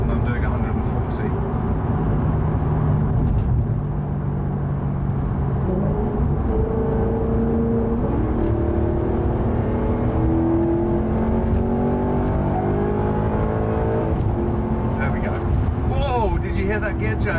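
Car engine revving in a driving video game, the engine note climbing through the gears with a clear gear change partway through, heard continuously under steady talk.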